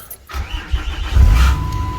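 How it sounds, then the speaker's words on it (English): A 2007 Dodge Ram diesel engine cranks after a brief silence, then turns over and catches into a low, rumbling idle, close and fairly loud. "when we go ahead and start the car"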